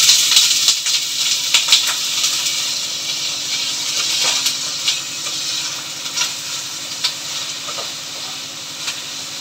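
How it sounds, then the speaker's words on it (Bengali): Spicy potatoes fry in a pan, a steady bright sizzling hiss that runs throughout with scattered small crackles, loudest at the start and easing slightly, close and without speech. "ঝাল করে একটু আলু ভেজে নিয়েছি"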